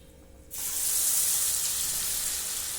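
Onion pakoda batter hits hot oil after a half-second of quiet, setting off a sudden loud, bright hiss that holds steady and close as the fritters fry. No talking.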